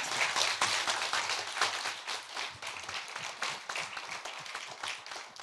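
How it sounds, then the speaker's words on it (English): Dense audience applause fills a symposium hall, a steady wash of many hands clapping at moderate volume that holds throughout without letting up. "An extra applaud for"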